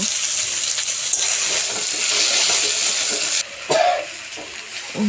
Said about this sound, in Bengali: কচুগুলোকে দিয়ে নাড়িয়ে চাড়িয়ে একটু ঢাকা দিয়ে দিয়ে নরম করে নেব